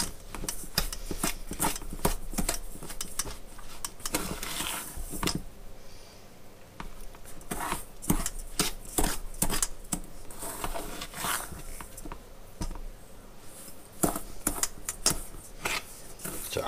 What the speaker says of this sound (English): So I'm just going to keep stirring this for a little bit, mixing it up